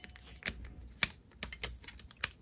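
Braided cable protector is unwrapped from headlight wiring on a Blix Vika+ electric bicycle, giving a quiet series of sharp clicks and ticks, roughly half a dozen irregular snaps close by with no talking.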